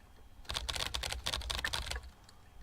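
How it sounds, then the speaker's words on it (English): Quick, crisp keyboard typing from the video game Emily is Away, a single close burst of rapid keystrokes lasting about a second and a half, with no talking. "Such a fast typer."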